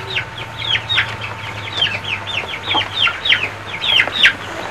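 Laying hens on a farm cluck in a quick, repeated series of short calls, fairly close and prominent over a low steady hum, with no talk.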